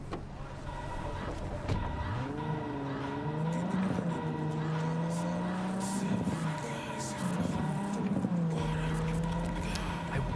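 A car engine in the game Cyberpunk hums and revs in smooth rising and falling waves, steady and close, with no talking.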